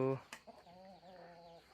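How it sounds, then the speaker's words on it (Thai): Chickens cluck in a rice-field farm setting, with a sharp call at the start and then a run of steady rhythmic clucking nearby, fairly quiet. "มีงัวมีไก่"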